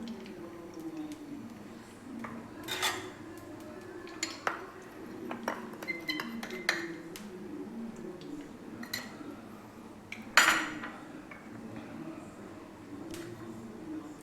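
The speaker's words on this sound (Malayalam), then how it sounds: "ഇടയ്ക്കൊന്ന് ഇളക്കി കൊടുക്കുക" Green gram payasam with milk being stirred in a pot, heard as scattered close spoon scrapes and clinks against metal with an occasional louder knock, fairly quiet, with brief voices in the background.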